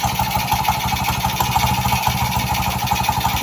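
Motorcycle engine with a broken connecting rod running nearby, its loud steady idle carrying a rapid, even knocking clatter throughout.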